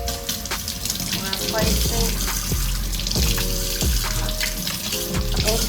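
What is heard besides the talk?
tap water running while washing mint leaves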